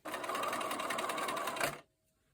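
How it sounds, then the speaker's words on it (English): A sewing machine runs steadily up close, stitching a quarter-inch seam on quilt pieces for a five-pointed star, with a fast even whir that stops abruptly near the end. "put right sides together, line them up, and then stitch that 1/4 inch seam"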